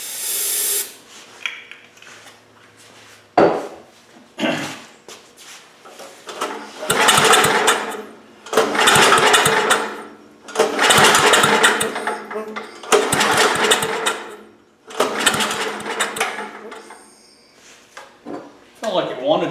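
A Kohler K161T 7 hp engine on a 1970 Troy-Bilt rototiller cranks in repeated loud, rhythmic bursts after starting fluid goes into the carburetor throat, each burst separated by short pauses.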